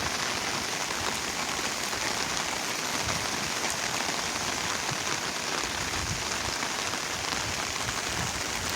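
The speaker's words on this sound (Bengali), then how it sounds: "যেভাবে বৃষ্টি হইতেছে আরও পানি বাড়বে" Heavy rain pours steadily onto flooded farmland and standing water, a dense, even hiss with countless drops spattering close by, continuous for the whole stretch with no voices.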